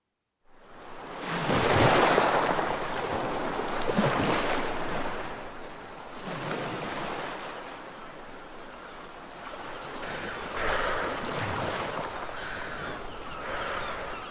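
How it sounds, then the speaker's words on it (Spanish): Sea waves for a radio drama surge and recede in slow swells, each crash building and fading every few seconds, close and fairly loud with no voices. "Odio el sonido de las olas."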